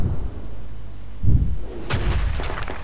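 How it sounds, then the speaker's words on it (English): Ammo caches explode under a mortar attack in the video game Project Reality: heavy, muffled booms followed by a burst of loud, crackling blasts close together. "Ammo caches, and their ammo caches are blowing up and all sorts of shit."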